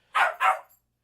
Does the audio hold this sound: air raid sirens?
no